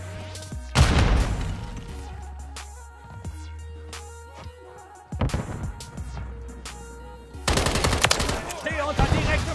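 Gunfire in Call of Duty: Modern Warfare 3 (2023) comes in several loud rapid automatic bursts and booming blasts, close and harsh, separated by brief quieter gaps with low game ambience.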